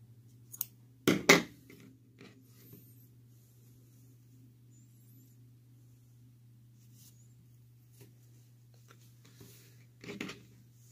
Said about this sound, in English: Then you can cut your yarn